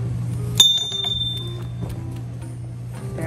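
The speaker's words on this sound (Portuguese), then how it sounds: "tá vendo esse sino? A gente toca." A bell at the door of an abandoned house in a forest is struck once, giving a sharp, bright ring that fades slowly over a low, steady background hum, with a few faint clinks after it.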